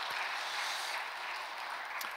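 A room full of people clapping steadily during a Korean church sermon, a dense wash of applause throughout with no pauses.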